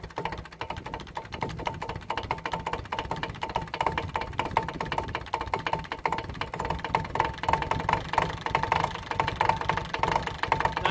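A Ferguson MF35 diesel tractor cranks in cold weather with its glow plugs held on, giving a steady, fairly quiet rapid knocking and clattering rhythm that carries on without pause and with no talk.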